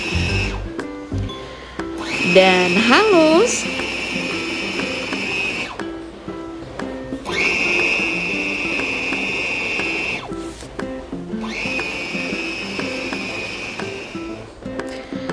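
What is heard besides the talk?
blender grinding meat with ice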